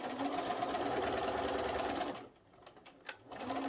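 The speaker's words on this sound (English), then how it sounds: "just keep sewing our pieces on" A sewing machine runs at steady speed stitching quilt pieces for a trihexa quilt, a continuous mechanical whir that stops abruptly, followed by a quiet pause and a sharp click before the motor starts again.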